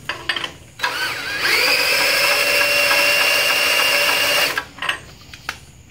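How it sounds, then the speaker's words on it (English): A power drill whirs steadily for about three seconds, spinning up and winding down, running in newly installed Dana 30 axle gears on a 1966 Ford Bronco, with a few clicks and knocks before and after. "I'm going to use my drill to run them in so I make sure I get a good pattern."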